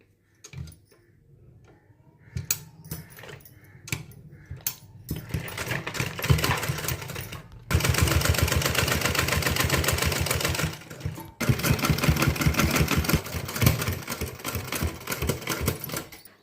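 A sewing machine stitches piping onto a blouse in rapid mechanical bursts, starting with a few separate clacks and then running in long steady stretches broken by short pauses, close and loud with no talk.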